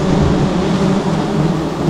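Steady rain falls outdoors during a beehive harvest, a dense, continuous hiss with a low rumble beneath that could be distant thunder.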